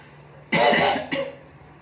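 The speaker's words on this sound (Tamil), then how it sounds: "எனக்கு இருமல்" Two coughs, the first a longer harsh burst and the second shorter, close to the mic, with quiet background before and after.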